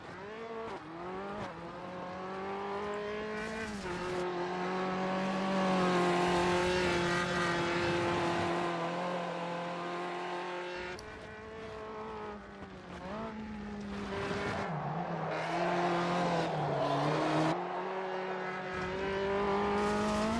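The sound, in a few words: race car driving in Automobilista 2 video game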